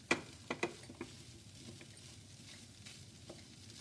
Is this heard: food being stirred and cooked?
yes